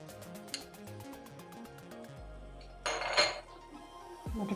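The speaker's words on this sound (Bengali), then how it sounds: "কড়াই বসিয়ে দিয়েছি, এবার 1 চামচ বাটার দিয়ে দেবো।" A wok is set down on a stovetop burner while cooking a Kolkata cabin-style chicken stew. There are close metallic clinks and a brief heavier clunk, followed by another knock near the end.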